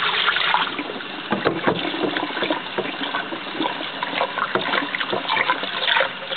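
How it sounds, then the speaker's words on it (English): Water splashes and sloshes steadily over homemade goat's milk butter as it is rinsed in a bowl, a continuous close, muffled swishing. "You just kind of keep rinsing until it's pretty well clear."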